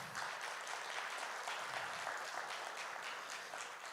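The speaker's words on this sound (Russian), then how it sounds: "Где ваши бурные аплодисменты?" An audience at a book presentation claps continuously and evenly. The applause is fairly quiet and distant, with no talk over it.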